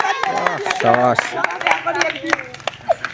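Village children clap for a prize winner at an outdoor game, a short burst of scattered, uneven handclaps mixed with a voice talking over them.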